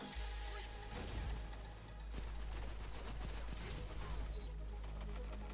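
Rapid auto rifle fire from a buffed weapon in a video game, a continuous dense stream of shots running loud and unbroken through the whole stretch with no spoken words.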